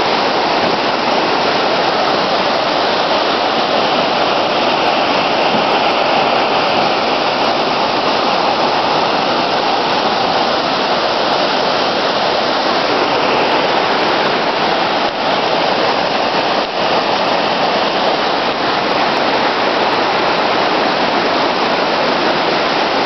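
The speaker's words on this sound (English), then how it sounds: "Waterfalls everywhere." Waterfalls at Hanging Lake, Colorado, pour with a constant rushing hiss of falling water, dense and unbroken for the whole stretch, heard up close with no voices.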